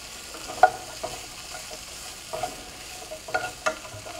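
Onions softening in olive oil for shakshuka, a low, soft sizzle broken by several sharp clinks and scrapes of a utensil stirring the pan, no talking.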